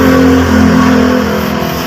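A Mitsubishi L300 van engine idling steadily and loudly up close after a hard morning start, a constant low mechanical drone with a slight dip in revs partway through.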